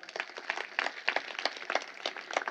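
Audience at a Marathi Bhagwat Katha religious discourse breaking into applause, a steady dense patter of many hands clapping, moderately distant and sustained throughout with no talk over it.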